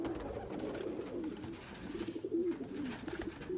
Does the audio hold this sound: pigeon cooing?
yes